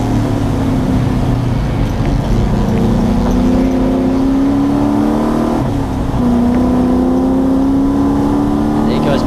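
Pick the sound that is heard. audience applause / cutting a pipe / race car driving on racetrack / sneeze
race car driving on racetrack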